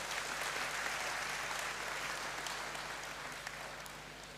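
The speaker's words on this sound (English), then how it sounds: "I think you deserve a round of applause." Applause from an audience in a great hall at a university congregation ceremony, with dense, steady clapping that holds at the same level throughout and fades slightly toward the end.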